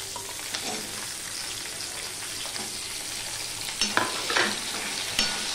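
Potato pieces fry in a pan with okra, a steady sizzle under scraping stirs that grow sharper and louder near the end.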